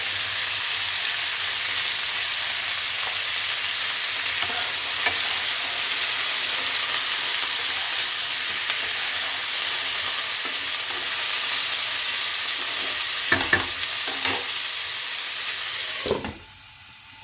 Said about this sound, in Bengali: এবারে ঢাকা দিয়ে ভালো করে ভাজা করে নেব সবজিটা